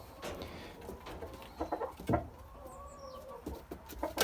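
Young Barbezieux hens clucking and cooing softly in a coop, with intermittent bird calls and faint background shuffling.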